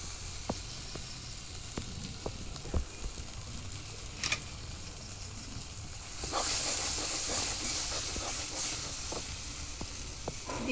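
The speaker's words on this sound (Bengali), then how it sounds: "এরপর আমি দিয়ে দিব জল।" Water is poured into a hot pan of fried spices and melted tomatoes for a Bengali rohu fish curry, setting off a steady loud hiss and sizzle that swells midway, with occasional sharp clinks of utensils.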